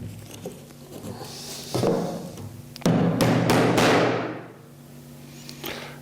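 Upholstery tacks being hammered through canvas into a wooden theatre door flat frame, a few sharp close knocks with a heavier burst of impacts midway that fades out gradually.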